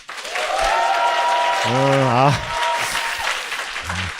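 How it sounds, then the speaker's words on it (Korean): Applause from business attendees welcoming invited guests at a company event, a steady wash of clapping beneath a speaker's amplified voice and some vocal sounds. "우리 이분들 정말 감사하다고 그리고 환영한다고 우리 박수 한번."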